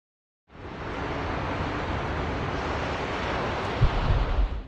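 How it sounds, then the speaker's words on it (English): Ocean surf breaking on a Miami beach, a continuous wash of wave noise with wind buffeting the microphone, rising from silence and staying loud, with a few rougher gusts toward the end. "The beach right here in Miami right now, guys."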